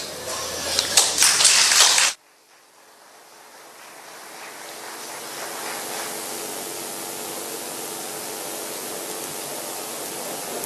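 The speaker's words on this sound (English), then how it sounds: "Ladies and gentlemen, we beg you, don't clap next time, please." An audience at a forum on justice for Liberia's past atrocity crimes claps in a dense burst of applause for about two seconds, then it cuts off abruptly, leaving a low, steady room hiss.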